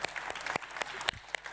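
Scattered clapping from a modest audience at an innovation-contest award ceremony as the winner is named, quiet and sparse with individual sharp claps standing out.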